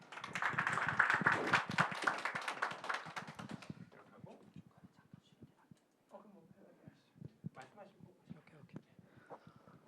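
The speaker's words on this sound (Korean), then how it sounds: "큰 박수로 부탁드립니다." A lecture hall audience claps loudly at the start of a real estate training class, the applause fading after a few seconds into quieter room noise with scattered taps and soft voices.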